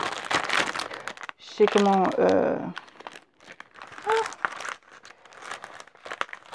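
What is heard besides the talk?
crumpling single-sided metallic paper sheet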